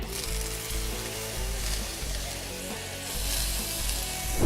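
Large shrimp grill in olive oil with a steady, loud sizzle that crackles continuously and swells slightly toward the end, with no voices over it.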